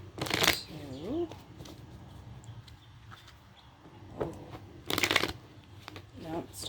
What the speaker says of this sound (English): Let's get a good shuffle for Pisces.